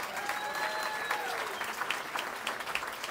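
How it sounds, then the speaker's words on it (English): Steady applause from a graduation commencement audience in Southern California, many hands clapping continuously at moderate loudness, with a faint tonal whistle drifting through the background. "Let's give you guys one big round of applause again."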